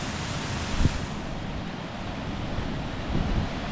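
Fast-flowing water at Three Shires Head waterfall on a misty walk makes a continuous broadband rush that stays steady throughout, with a couple of brief low thumps.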